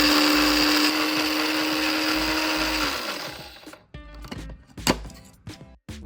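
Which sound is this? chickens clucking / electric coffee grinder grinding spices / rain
electric coffee grinder grinding spices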